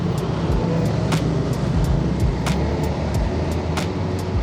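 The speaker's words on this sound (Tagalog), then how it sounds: "Dami lang sasakyan ngayon." Dense city traffic in Cebu, heard from a Honda ADV 350 scooter, rumbles continuously with a steady engine and road drone, punctuated by several short, sharp clicks or ticks at irregular intervals.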